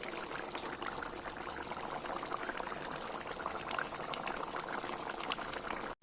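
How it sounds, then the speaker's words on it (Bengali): A soybean curry gravy for vegetarian soybean dumplings boils in a pot, giving a steady, close, dense bubbling and hissing that runs unbroken before cutting off abruptly at the end. "এবার ঝোল ফুটে গেছে, মিঠাগুলো দিয়ে দেব।"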